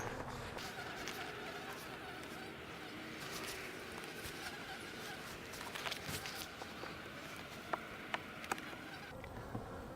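Honeybees buzz steadily during a beehive inspection with hive beetles present, a dense close insect drone with a few brief clicks and handling knocks near the end.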